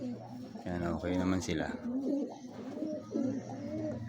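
Stock pigeons in a loft coo in low, throaty, repeated calls, close by and mixed with someone talking over them.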